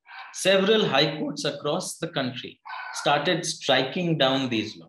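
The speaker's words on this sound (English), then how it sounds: "my neighbor's dog, when he starts barking, then there is nothing to stop it. So you might hear that in the background." A neighbour's dog barks intermittently in the background, faint and partly masked by someone speaking continuously over it.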